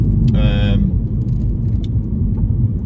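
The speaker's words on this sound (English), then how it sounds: "There is a lot of road noise in this car." Steady low road rumble fills the cabin of a 2016 Mini John Cooper Works F56 on run-flat tyres driving around an industrial estate, with a brief electronic chime tone near the start.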